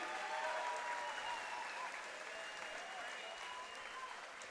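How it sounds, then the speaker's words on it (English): Steady applause from a large crowd at a live boxing event, sustained clapping that fills the space without letup, slightly tapering toward the end. "Let's give these guys a big round of applause,"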